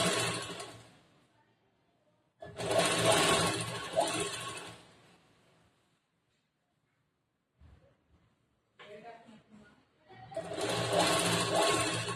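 An electric sewing machine stitches satin kurta lining onto the main cloth in quick whirring bursts, close and clear, with silent pauses between runs and no talking.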